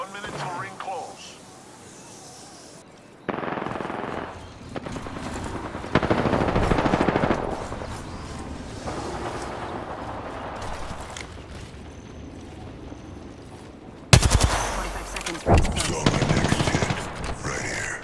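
Gunfire in the battle royale shooter Apex Legends, bursts of rapid automatic shots with a loud burst near the end, under game sound and some talk.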